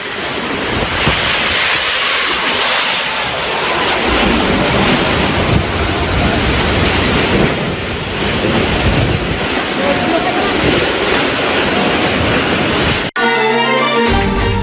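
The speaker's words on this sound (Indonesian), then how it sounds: "angin kencang juga menumbangkan sejumlah pohon dan tiang listrik" A strong whirlwind sweeps through a residential village in Pabelan, Semarang, Central Java, roaring and buffeting the microphone in loud, continuous gusts. It cuts off abruptly into a short burst of music.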